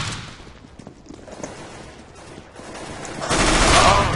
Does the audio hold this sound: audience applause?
no